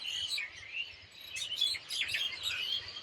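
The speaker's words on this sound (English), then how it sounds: "Oh, the birds are singing." Birds sing outdoors in a lively chorus of high chirps and tweets that overlap in quick bursts. The calls are faint and somewhat distant, and no one speaks.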